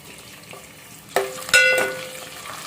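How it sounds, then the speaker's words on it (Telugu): Dried fish dropped into hot oil in a pot, a quiet hiss that bursts into a loud crackling sizzle with a second sharp splash, then settles into steady close frying. "ఒక గిన్నె పెట్టుకొని తగినంత ఆయిల్ వేసి ఎండు చేపల్ని ఇందులో వేసుకుంటున్నాము."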